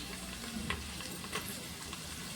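Vegetables with crushed pepper frying in a pan for a vegetable pulao, giving a steady close sizzle with a few faint clicks of stirring and no talk.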